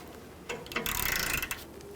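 Upper caliper bracket bolt being loosened and removed on a 2007-2021 Toyota Tundra during parking brake shoe replacement, a close burst of ratcheting wrench clicks lasting about a second, no talk.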